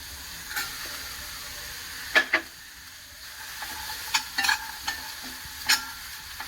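Green gram tipped into a hot pan and stir-fried, a low sizzle broken by a few sharp spoon-and-pan clatters and scraping strokes, close and without speech.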